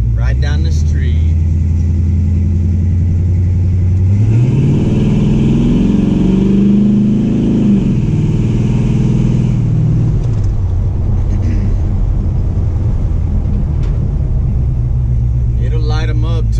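A 1984 short-bed truck with a turbo 375 three-speed transmission and 2400 stall converter accelerates hard, engine rumble rising and dropping through strung-out gear shifts, loud and close, with talk over it.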